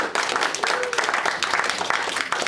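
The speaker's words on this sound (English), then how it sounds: "a big round of applause for him" A crowd applauds steadily, a dense, continuous patter of many hands clapping throughout.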